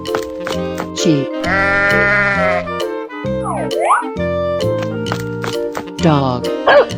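Sheep bleats from a 3D animal sliding game sit within loud, upbeat game music, with a wavering bleat standing out briefly against the steady melodic backing.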